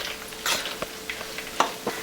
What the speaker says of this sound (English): Now we're frying it for the second time until it's getting golden brown and